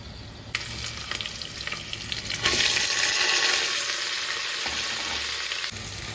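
Whole spices fry in hot ghee in a pan for a vegetable biryani, giving a steady sizzle that swells suddenly louder partway through and holds, with a few faint clinks and no talking.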